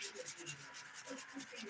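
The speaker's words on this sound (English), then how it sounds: "This is rubbing alcohol on a nail brush that I'm using to clean, my side walls, underneath the nails, all of it." Soft bristle scrubbing of a nail brush dipped in rubbing alcohol, cleaning side walls and under fingernails during a brown-to-black ombré dip powder manicure; short, quiet, repeated brushing strokes close to the mic.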